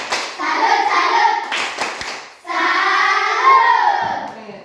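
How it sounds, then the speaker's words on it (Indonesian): A classroom of students performs a rhythmic 'tepuk salut' clapping cheer, claps ringing under loud unison chanting voices in two bursts with a short dip between. "Kita berikan tepuk salut sekali lagi untuk kelompok 5"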